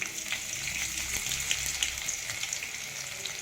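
Chopped ginger and garlic frying in hot oil in a pan, giving a continuous close hiss of sizzling with faint stirring underneath and no talking.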